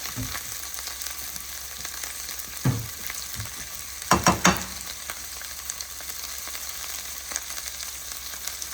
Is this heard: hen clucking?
no